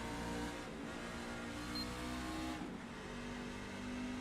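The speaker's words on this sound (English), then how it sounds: "There's a car approaching." Race car engine in a racing video game, a steady sustained drone with a pitch shift partway through as the car approaches, fairly loud and continuous with no talk.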